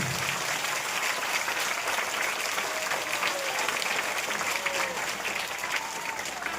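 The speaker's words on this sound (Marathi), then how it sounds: "आणि एकदा हात वर करून जोरदार टाळ्या वाजवा इथल्या सगळ्या शिक्षकांसाठी" A large crowd claps hard for the teachers at a village district council school gathering, keeping up sustained, even applause from start to end, with faint voices underneath.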